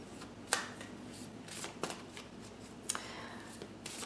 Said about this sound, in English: I'm going to shuffle just a hair here